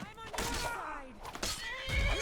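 A horse neighs in Skyrim, a long whinny with descending harmonic sweeps and a few hoof thuds, set against ongoing combat noise and a voice talking over the scene.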